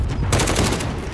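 Rapid automatic gunfire in the video game Call of Duty Warzone, loud and close, a continuous rattling burst filling the short stretch.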